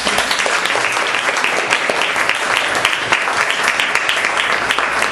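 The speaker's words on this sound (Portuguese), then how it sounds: "Faz uma salva de palmas." An audience at a spiritist lecture gives a steady, close round of applause, dense rapid clapping at an even level from start to finish.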